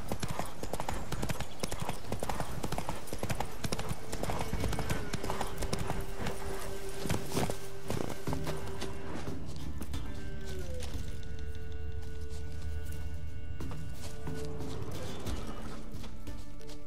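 Steady clip-clop of a horse's hooves walking on hard ground, a game horse named Roach in The Witcher 3, continuous and close, with a short whinny and some background game sounds.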